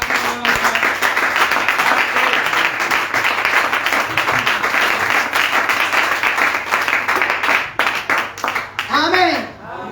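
A church congregation applauds and cheers together during a Sunday service, with loud, dense, continuous clapping and some shouting voices that fade near the end.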